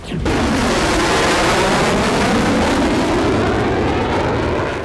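A Russian Sukhoi Su-34 fighter jet flies over the Kursk region during a cluster-bomb strike. It makes a loud, steady, broadband roar that swells in within the first moment and holds unbroken throughout.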